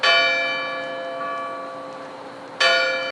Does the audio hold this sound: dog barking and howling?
no